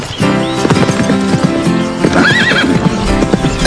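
A horse neighs and whinnies amid steady clip-clopping hooves, close and loud, with a rising whinny standing out near the middle over the continuous hoofbeats.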